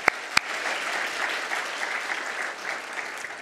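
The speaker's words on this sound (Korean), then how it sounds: "우리 함께 박수로 하나님께 감사를 드리겠습니다." A church congregation applauds its choir during a Christmas Sunday service, a steady, moderately loud wash of clapping with two sharp claps at the very start, carrying on evenly to the end.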